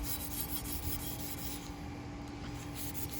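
A rusty machete sprayed with WD-40 being scrubbed clean, a steady, faint rasping rub that continues evenly without pause.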